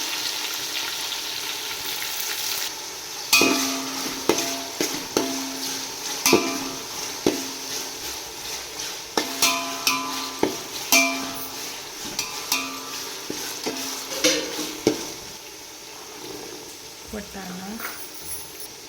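Cumin, mustard seeds, sesame, ginger, garlic, coconut and tomato fry in a pan. Soft sizzling sits under repeated clattering stirs and scrapes that come in irregular bursts, and a person's voice is present at times.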